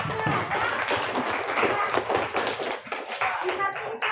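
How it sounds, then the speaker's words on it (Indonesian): Indonesian schoolchildren applaud their class leader in a classroom, a brisk, close scatter of claps and taps mixed with chatter and voices throughout. "Tepuk tangan untuk ketua kelasnya"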